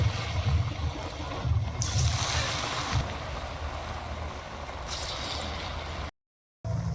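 Taro (kochu) fritters frying in hot white oil in a kadai, a steady broadband hiss and crackle running throughout, then cutting off abruptly into a short silence near the end.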